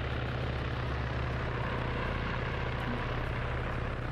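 Military aircraft engine in Arma 3, a steady, loud droning roar with a low hum, continuous and unbroken as it powers up for takeoff, no voices over it.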